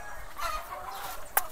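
Chickens clucking inside a backyard poultry building for laying hens, soft clucks with a brief sharper call near the end, no talking.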